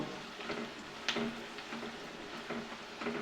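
Onions brown in oil after cardamom has gone into the pan, giving a quiet, faint sizzle broken by light, regular scraping or stirring taps about every half second.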